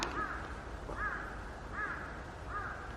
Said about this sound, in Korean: 까마귀가 무섭게 우는 동네긴 한데.